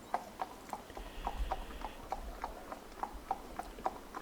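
A horse trotting into woodland: an even, rhythmic clip-clop of hooves at a moderate distance, about three beats per second, with no voices.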